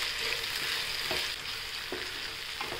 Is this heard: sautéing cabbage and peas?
yes